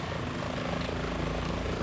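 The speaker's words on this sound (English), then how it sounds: "Is that a chopper I just heard?" In Metal Gear Solid 2, a helicopter's rotor and engine drone at a loud, constant level, with no voices over it.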